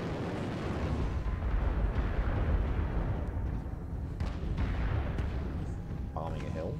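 Explosions from bombing a hill in MechWarrior Online, a sustained rumbling roar of blasts that swells and fades, with a voice speaking over it.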